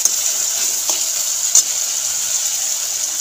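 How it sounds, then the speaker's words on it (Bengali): Chopped tomato with salt sizzles steadily in a hot pan while being stirred, a constant close-up frying hiss with a few soft scrapes and no voices. "টমেটোটাকে স্বাদ মতো নুন নেড়ে চেড়ে ভেজে নেবো টমেটোটাকে"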